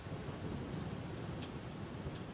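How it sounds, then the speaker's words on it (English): Steady rain falls in the video game Skyrim, a dense, continuous hiss with a low rumble beneath it and no voices. "The rain is so peaceful."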